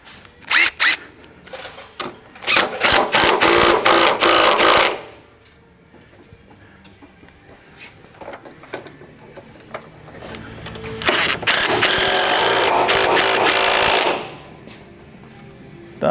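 An impact wrench tightens body mount bolts on a Toyota GX470, GX460, 4Runner or FJ Cruiser, giving two loud, close bursts of rapid hammering, one of about three seconds and a later one of about three seconds after a quiet gap.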